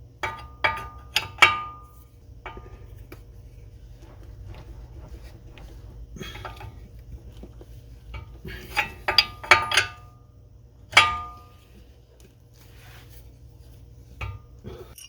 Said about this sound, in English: the first thing we need to do is take the nut off our ball joint here